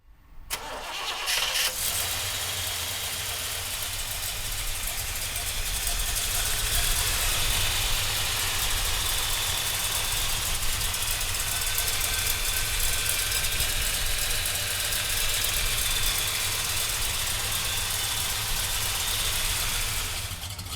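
A 1966 Chevrolet Chevelle with a 396 V8 cranks briefly, catches and settles into a steady, loud rumbling idle that runs on without a break, with no talk over it.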